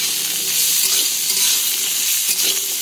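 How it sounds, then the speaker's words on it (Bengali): Dried red chillies and bay leaves tempering in hot oil in a wok, a loud, continuous close sizzle that stays steady throughout with no voices. "তেলে শুকনো লঙ্কা ও তেজপাতা ফোড়ন দিয়েছি।"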